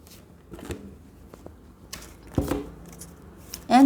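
Tarot cards being shuffled to draw a single card: a few sparse, brief papery snaps and riffles, fairly close and quiet, with gaps between them.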